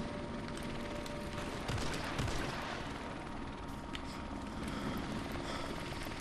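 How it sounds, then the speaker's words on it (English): In a World War 2 video game, a helicopter's rotor drone runs steadily throughout, mixed with bursts of distant gunfire. "I'm just sitting here just waiting for the helicopter to go away"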